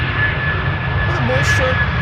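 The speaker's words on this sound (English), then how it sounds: "This is Delta Airlines, flight 136, arriving from Detroit, Michigan. A330-300" Brief, steady engine hum from a Delta Airlines Airbus A330-300 arriving on the Polderbaan 18R runway at Amsterdam Schiphol, a constant close roar with no breaks.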